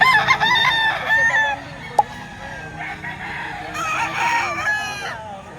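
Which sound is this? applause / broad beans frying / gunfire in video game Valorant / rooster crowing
rooster crowing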